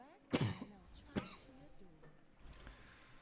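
A person coughs, one sharp burst followed by a second shorter cough, close to the mic, then quiet room noise.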